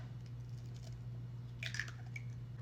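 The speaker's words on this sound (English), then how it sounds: "We're going to start off by cracking 4 eggs into our measuring cup." Eggs being cracked into a measuring cup, four of them, give a brief soft crack and wet squish partway through, set against a steady low electrical hum and quiet room noise.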